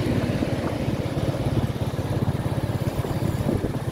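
Steady street traffic of cars and motorbikes rolls past continuously near Mỹ Phước industrial park, a dense mid-level engine drone with rapid pulsing putter, no talk.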